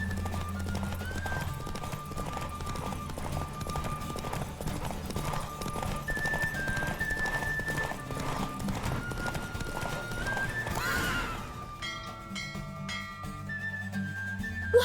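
Galloping horse hooves in The Witcher 3 video game, a rapid steady clip-clop running throughout under game music, ending with a brief whinny and a rush of noise near the close.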